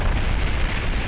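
A deep, rumbling explosion in the video game Armored Core 6, a single loud sustained blast of broadband roar filling the moment with no voices over it.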